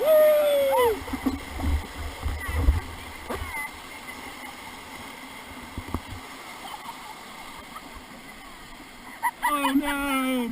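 Whitewater rapids on the Ocoee River rush and splash around a raft, a steady churning wash with bursts of spray, while people on board shout and whoop over the water.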